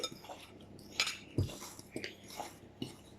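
Flour and sugar are stirred together in a bowl, giving soft, irregular scraping and clinking of a utensil against the bowl. The sounds are faint and close, with no talking.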